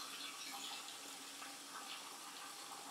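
Water from a Collomix AQIX dosing device runs steadily into a bucket, a continuous even rush with no pauses, filling toward a preset three gallons for mixing pan shampoo.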